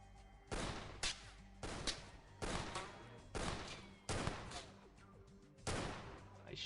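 Sharp gunshot bursts from The Xcom Files video game ring out in a regular rhythm, about six loud reports roughly a second apart, each with a short decaying tail.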